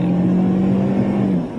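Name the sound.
Dodge car engine revving while driving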